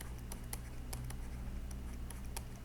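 Chalk or marker scratching and tapping on a board as a teacher writes words during a lecture, a scattering of short, quiet clicks and scrapes at an irregular pace against a soft room hum.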